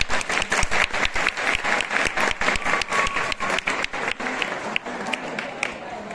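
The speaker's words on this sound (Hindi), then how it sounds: "श्री कुंदन सिंह असिस्टेंट कमांडेंट सीमा सचावा का जोरदार तालियों से स्वागत करें" Loud crowd applause at a border ceremony welcoming the chief guest, an assistant commandant, with dense rapid claps that hold steady for several seconds before easing slightly.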